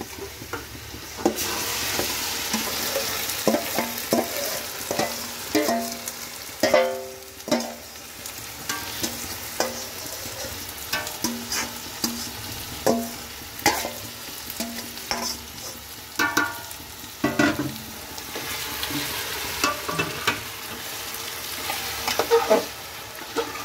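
Chicken meat stirred into fried onions in a pan for homemade chicken pulao, a continuous loud sizzle broken by repeated scraping strokes of a spatula, close and busy throughout.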